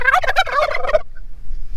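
Turkeys gobble close by in a quick burst of rapid, warbling calls lasting about a second, followed by quiet.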